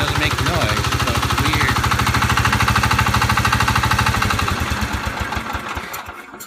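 A Kohler K-series engine on a Cub Cadet 149 tractor runs loud and close with a steady rapid knocking beat, then slows and fades as it winds down; a voice talks over it.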